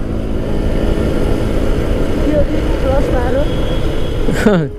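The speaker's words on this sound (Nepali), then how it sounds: "स्कुटीहरूमा यो एन्टर्क चाहिँ खत्रै कुद्छ कि जे भयो भने" A TVS Ntorq scooter's engine drones steadily while riding outdoors, with rushing wind noise throughout and someone talking over it.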